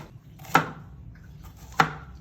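A knife chops an onion in two sharp, close strikes about a second and a quarter apart, with quiet pauses between them.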